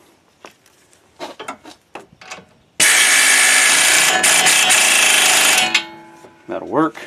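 A pneumatic air impact gun rattles loose a 16 mm bolt during brake pad and sway bar work on a Honda Fit, one loud sustained burst of about three seconds after some clinks and handling noises, followed by a brief whir.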